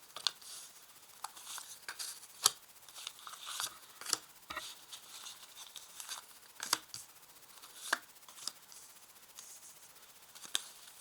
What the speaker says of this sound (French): Alors je vais placer les cartes.